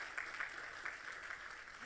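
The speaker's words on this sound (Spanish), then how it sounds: "Dale ese aplauso más fuerte al Señor." A church congregation applauds quietly and steadily for a couple of seconds, faint and heard from a distance.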